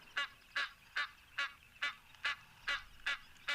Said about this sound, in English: Nice to hear the Egyptian geese as well as the Namakwa sandgrouse for now.